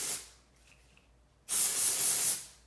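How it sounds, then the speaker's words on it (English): A short burst of dry shampoo aerosol sprayed onto hair, then a pause and a longer, louder hissing spray lasting about a second, close by. "So I'm going to spray a little bit"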